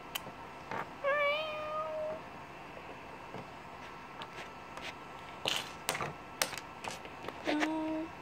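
A cat gives two short meows, one clear and rising near the start and a shorter one near the end, amid scattered clicks and tapping sounds, fairly close and moderately loud.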